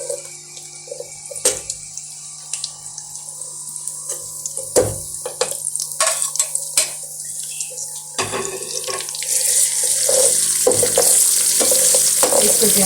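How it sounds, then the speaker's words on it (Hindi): White parts of coloured onions frying and browning in a pan for Chinese biryani, a steady soft sizzle with scattered clinks and scrapes of stirring, rising to a fuller hiss toward the end, no talk. "इधर अब इसमें कलर वाली प्याज का वाइट हिस्सा हम ब्राउन करेंगे"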